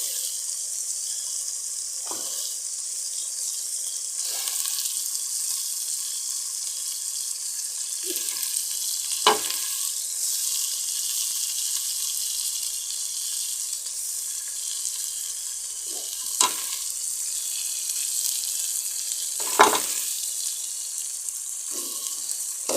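Onions and green chillies, about a kilo of onion, fry in a pan with a constant hiss of sizzling, broken by occasional scrapes and knocks from stirring.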